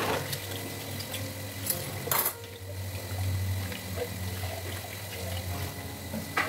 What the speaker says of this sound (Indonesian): jadi saya pakai sikat yang untuk bersihin sink, nggak apa-apa, yang penting dibilas sampai bersih ya